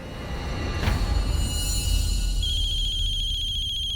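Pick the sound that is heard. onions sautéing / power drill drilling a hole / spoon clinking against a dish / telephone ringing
telephone ringing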